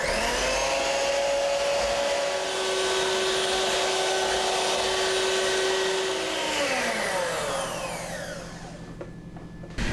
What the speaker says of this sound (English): the eggs are going to get mixed up with a hand mixer